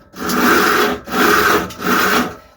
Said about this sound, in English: both wheels seem to be turning, no major noises, apart from just the normal chain noise